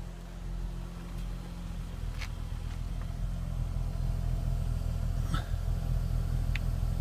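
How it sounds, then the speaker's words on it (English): A 2014 Nissan Maxima's exhaust rumbles low and steady from close by, a continuous throaty hum with a few faint clicks above it and no speech. "Let's go back and see if I can get a decent clip of the exhaust here"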